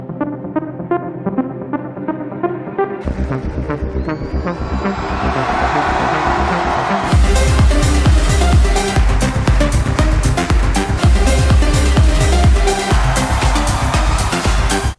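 A 2015 remix, the classic synth line over an electro bass, building from a sparse melodic opening into a loud, dense, pounding dance groove, with no voices.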